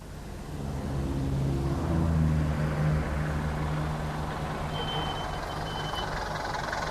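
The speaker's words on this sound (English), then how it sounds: "Oh, taxi." A taxi pulls up in a radio drama street scene, with a steady engine drone and traffic rumble that swell gently and then settle. No one speaks.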